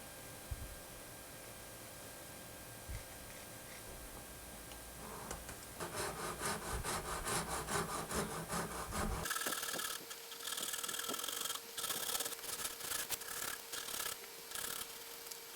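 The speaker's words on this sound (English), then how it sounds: "Now I'm gonna have to cut a slot right down the middle of this on top." A saw cuts a slot down the top of a wooden crankbait lure body. Quiet rubbing gives way to steady, raspy back-and-forth strokes that grow busier and brighter toward the end.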